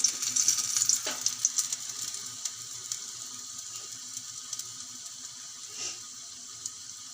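Gram-flour-coated bread slices dropped into hot oil for deep frying, giving a steady bright sizzle and crackle that is loudest at first and then settles into a softer continuous fry, with a few small splashes and no talking.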